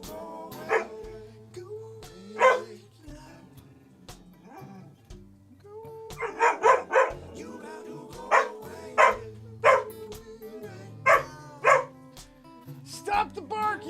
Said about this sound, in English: Stop the barking!